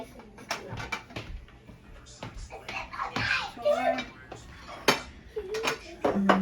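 Plates and dishes clatter in a busy home kitchen, with repeated knocks and clinks close by, mixed in with voices chatting over and between them.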